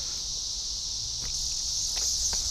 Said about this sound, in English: Oh, a cicada's on me, Nick.